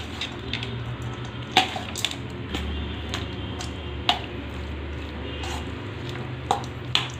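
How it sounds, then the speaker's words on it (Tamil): Tamarind extract is poured over cooked rice and mixed in by hand, giving soft wet squishes, drips and scattered clinks against a vessel, faint and close over a low background hum. "இப்போ வந்து நம்ம காசி எடுத்து வச்சுருக்கிற புளி கரைச்சலை ஊற்றிக்கலாம்."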